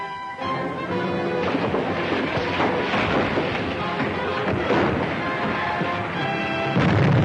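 Naval ship guns fire a broadside, heard as heavy, continuous booming and rumbling with crashing blasts layered over one another. The barrage is loud and dense throughout.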